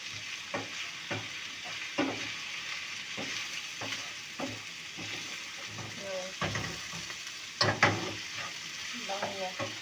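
Chicken gizzards fry in a pan while being stirred, a steady sizzle broken by repeated scraping and clinking strokes of the utensil, close up with little talk.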